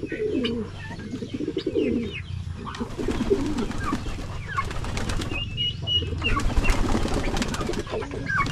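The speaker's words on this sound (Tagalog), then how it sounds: "Yung iba nating mga kalapati dito, may mga bagong inakay na naman." Pigeons in a backyard poultry coop alongside turkeys and guinea fowl, with soft cooing and bird calls and some wing flapping, fairly near and continuous, no talking.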